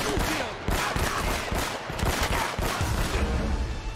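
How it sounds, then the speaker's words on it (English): Video game gunfire in Uncharted: Drake's Fortune, with loud rapid bursts of shots and dense overlapping fusillades continuing for several seconds, and no talk over them. "Can you stop shooting for like 2 seconds, dude?"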